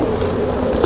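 Roughly 300 honey bees buzzing inside a cup during an alcohol wash, a dense, continuous close drone with no gaps.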